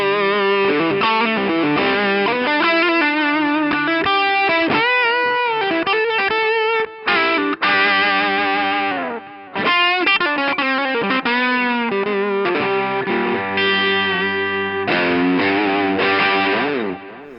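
Guitar through a VERTEX UltraPhonix overdrive pedal, playing a continuous saturated, upfront riff with bright harmonic distortion, loud and close, with only a couple of brief gaps and no talking.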